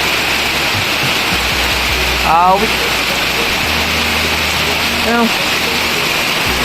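Heavy typhoon rain from Typhoon Goring pours steadily behind a flooded house near a pigeon flyers loft, a dense, loud hiss throughout, with brief speech and a couple of short sweeping sounds over it.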